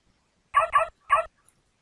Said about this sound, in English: Bork, what's that What barking? Probably a dog.